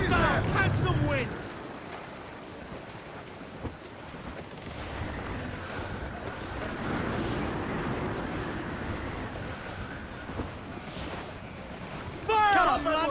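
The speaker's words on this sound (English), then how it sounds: "Quite the squall picking up, Captain. Dark skies and rough seas there." Wind and rough seas while sailing a ship in Assassin's Creed 4: Black Flag, a steady rushing roar of gusting wind and churning water lasting throughout, with voices speaking briefly at the start and end.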